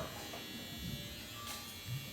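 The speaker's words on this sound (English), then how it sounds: "now I'm gonna use the shaver." A Profile Li electric shaver running during a bald fade haircut gives a faint, steady electric buzz that hums on without pause.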